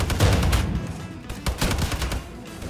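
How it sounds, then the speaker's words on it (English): Heavy weapon gunfire in frantic over-the-top combat in Wolfenstein 2: The New Colossus, a dense near continuous roar of shots with brief lulls, loud and unbroken by talk. "What we love about Wolfenstein is the heavy weapon and that over-the-top crazy combat."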